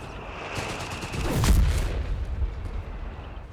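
A Vickers machine gun fires in the World War II strategy game Company of Heroes 3, a dense rattle of gunfire mixed with distant booms and battle noise that swells in the middle and then settles into steady rumble.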